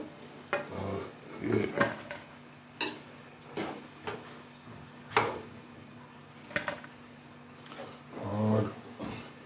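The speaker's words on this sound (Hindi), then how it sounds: "ये देखिए जी हमारे पकोड़े जो हैं तैयार हो गए और इनको जो है मैं निकालने लगा हूँ बाहर" Metal utensils clink and scrape against a pan as pakoras are lifted out of hot oil, with intermittent knocks and clatters over a steady low hum.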